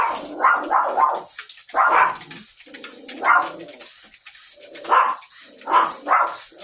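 Several pet dogs bark indoors at something outside, repeated sharp yaps in uneven bursts of two or three, close and loud with brief quiet gaps between.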